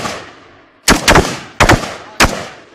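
Sharp, loud gunshot bursts from automatic weapons during military firing practice: three distinct volleys of rapid shots, each a close cluster of cracks with a short decay, separated by brief pauses.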